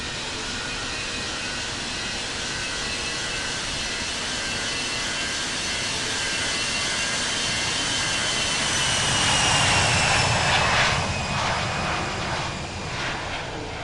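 Simulated jet airliner engines at London Heathrow in the Infinite Flight simulator, a steady loud roar with a high whine that swells slightly toward the end, no voices.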